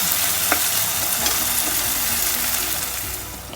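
Mutton mixed with masala fries steadily in a pan, giving a continuous loud sizzle with scraping stir strokes, alone without talk.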